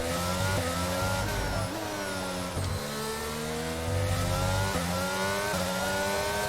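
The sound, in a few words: F1 car engine during a qualifying lap, F1 22 video game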